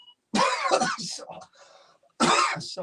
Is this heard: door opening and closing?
no